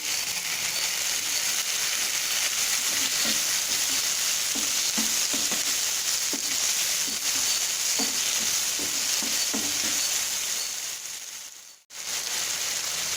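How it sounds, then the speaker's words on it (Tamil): Chopped tomatoes and softened onions fry in a pan for a green peas pepper masala, giving a steady, close sizzle with occasional stirring taps, then a brief drop in sound near the end. "வெங்காயம் வதங்கிடுச்சு. தக்காளி போடுறேன்."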